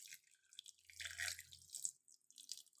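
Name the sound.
water draining from curdled milk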